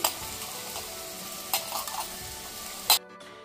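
Sago pearls frying and being stirred in hot oil with chilli, a faint steady sizzle broken by a few sharp scraping clinks before it cuts off.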